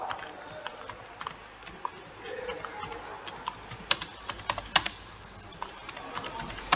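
Rapid keystrokes on a computer keyboard as an answer is typed, close and crisp irregular clicks in bursts, with a quiet voice underneath.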